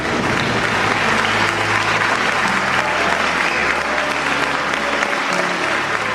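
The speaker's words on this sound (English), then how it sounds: "The applause grew louder" Loud, dense applause from a large crowd fills the whole stretch, a steady roar of clapping without pause.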